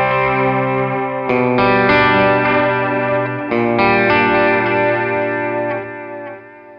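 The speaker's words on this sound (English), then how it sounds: "If you want the full-on warble, you can turn the drift control up." A Tech 21 RK5 SansAmp pedal with its delay's drift control turned up puts a wobbling, distorted electric guitar through pitch-warbled repeats, several chords sounding loud and alone before trailing off.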